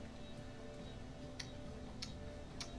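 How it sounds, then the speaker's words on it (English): Steady, faint ticking like a clock, with sharper clicks recurring about every half second over a hushed, hissy background, no voices. "constant ticking, like a clock"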